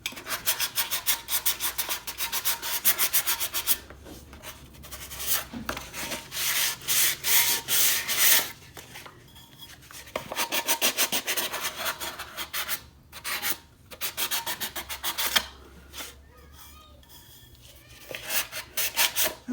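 Hand sanding on a crayon-decorated tumbler, a close, scratchy rasp coming in repeated back-and-forth strokes of uneven length, separated by brief pauses.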